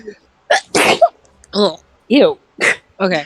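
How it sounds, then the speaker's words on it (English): One forceful sneeze bursts out close to the microphone, followed by a few short spoken words from the same person. "I need to sneeze."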